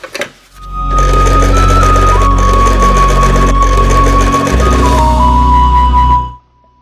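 A sewing machine runs in one steady, loud burst for about six seconds, stitching a bias strip onto an Ao Dai with round neck and flare sleeves, its motor hum and rapid needle clatter starting and stopping abruptly.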